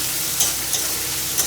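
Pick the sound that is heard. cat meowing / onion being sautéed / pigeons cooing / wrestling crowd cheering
onion being sautéed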